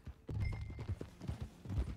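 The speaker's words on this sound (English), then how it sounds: "Get on your horse, John." In Red Dead Redemption 2, a horse's hooves clop in a steady, muffled rhythm of soft thumps, moderately close and alone without talk.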